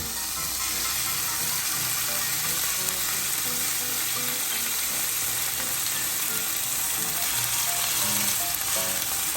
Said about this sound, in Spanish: Una vez calentado el aceite de oliva, vamos a colocar nuestros filetes de lomo.